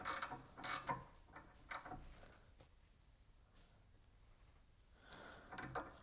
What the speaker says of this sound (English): I'm gonna use the M6 triple square socket to counterbalance that, and then go ahead and get this tightened down